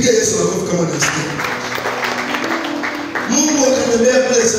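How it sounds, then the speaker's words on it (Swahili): Church congregation clapping hands at a Protestant service, a steady patter of many claps under a preacher's loud amplified speech. "Piga Yesu makofi kama unasikia."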